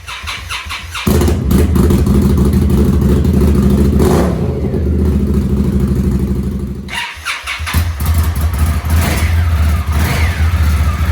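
Motorcycle fitted with RC Components slip-on mufflers, engine started and revved hard in two long bursts with a brief dip between, loud and close with a strong low rumble and no talking over it.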